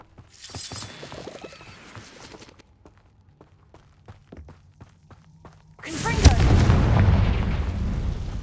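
A Bombarda spell blast in the video game Hogwarts Legacy, a loud booming explosion with a rumbling roar that bursts in near the end after scattered clanks, thuds and muffled game sounds.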